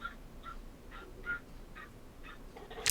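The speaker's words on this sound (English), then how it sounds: "That's my pet crow. He's in the background." A pet crow calls from another room, its repeated harsh caws arriving faint and distant, spaced roughly every half second over a low background hum, with a louder burst at the very end.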